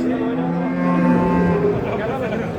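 Cattle low loudly at a livestock market in Çorum, a sustained moo with a strong harmonic tone lasting most of the moment, set against a busy crowd murmur.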